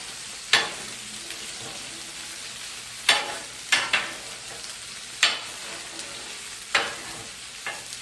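Oil sizzles on a hot grill at Ed's Garage and Grill, a steady frying hiss broken by several sharp, loud bursts of sizzle that spike and fade every second or two, with no talking.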